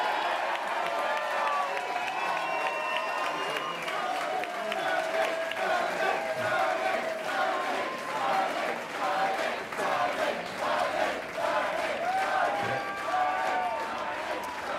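A large crowd at an Australian federal election night event cheers, claps and shouts continuously, a dense, steady roar with rising and falling excitement.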